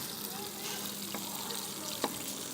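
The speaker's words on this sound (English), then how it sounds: "You don't need to when you're stir frying." Steady sizzling and crackling of vegetables stir-frying in a hot pan, a soft continuous hiss with a couple of brief clicks.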